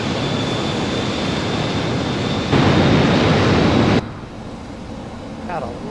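A light airplane in flight over the Australian outback gives a steady, loud broadband engine and wind roar that swells briefly, then drops to a quieter drone.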